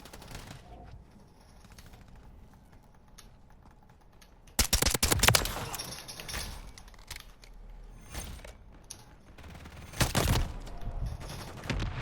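SMG fire in Modern Warfare III bursts out in two short, loud rapid rattles after a stretch of quiet background noise, one around the middle and a shorter one near the end.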